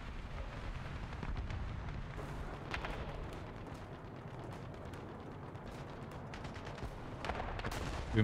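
Steady gunfire and artillery-like booms from the War Thunder combat game, dense and continuous across the whole stretch, with louder bursts standing out near the end.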